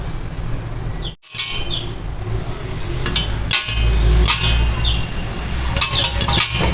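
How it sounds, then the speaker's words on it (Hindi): Popcorn pops in a covered pot with a plate on top, sending scattered sharp cracks and taps over a steady sizzling hiss, close and fairly loud, with no talking. "पटाखों की आवाज़ें आ रही है। देखिए हमारे पॉपकॉर्न जो है वो बन रहे हैं"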